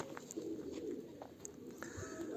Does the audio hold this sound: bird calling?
yes